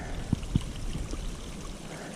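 Water running down over a big rock along a forest trail, a steady gentle trickling and rushing flow with a couple of soft low thumps, moderately close.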